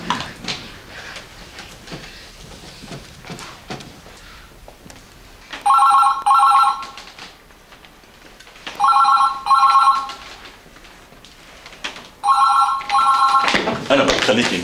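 A telephone rings back three times in a row on an outgoing call, each ring a loud electronic burst with a pause between, while voices talk in the pauses.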